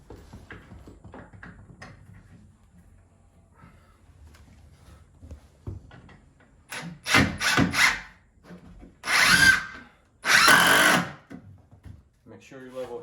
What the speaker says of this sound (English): I'm gonna pre-drill a little hole so my shims and everything doesn't spin